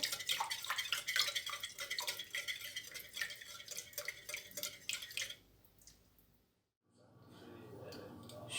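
A cauliflower gratin mixture with oil and flour stirred in a pot: rapid repeated scraping and clinking strokes for about five seconds, then a near-silent pause and a softer return, close by.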